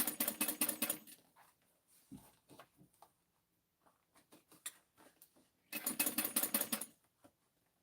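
A home sewing machine stitches in short rapid bursts, quiet and close, with two longer runs of fast clattering at the start and end and scattered ticks and handling clicks in between.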